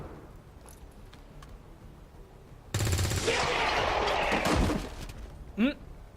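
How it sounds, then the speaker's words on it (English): Soldiers' weapons firing in the video game XCOM 2, a loud sustained burst of gunfire and impacts that starts abruptly and fades after a couple of seconds, with someone talking around it. "we want to go to fire weapon, and it's going to make us fire at this one specifically"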